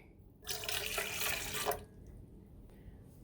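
One cup of water pours steadily into a mixing bowl for about a second and a half, a bright splashing stream, then stops, leaving quiet room noise.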